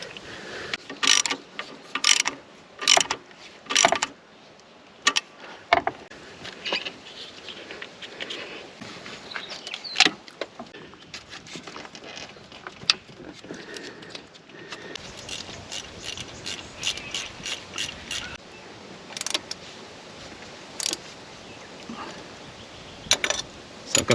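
A ratchet tightening alternator bolts on an 80 Series Landcruiser, with repeated bursts of quick clicking pawl strokes, close and fairly crisp, interspersed with quieter handling noises and pauses.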